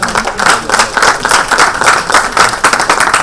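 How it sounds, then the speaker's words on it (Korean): Loud, close applause fills a party meeting, with many hands clapping steadily and no talking for a few seconds. "박수 한번 쳐주세요."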